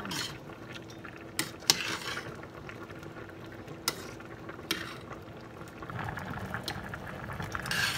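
Mushroom curry made with white-legged mushrooms boils in a pot, giving a close, steady bubbling simmer broken by a few sharp clicks and clinks, with no voices.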